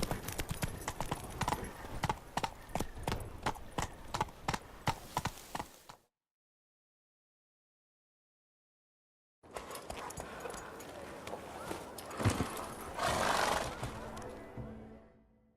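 Horse hooves clip-clop in a steady, close rhythm while riding in The Witcher 3, a short silent gap breaking the sequence before hoofbeats resume with louder game sounds and a brief voice.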